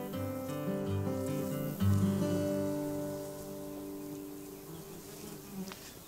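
Honey bees buzz steadily around small nucleus hives in an apiary, a soft continuous drone of many insects at close range with no talking.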